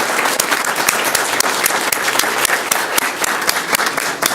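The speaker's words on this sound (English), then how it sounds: "Can we give them a round of applause?" Audience at a school district governing board meeting applauds honored elementary school staff, continuous close clapping with individual claps standing out, no talk over it.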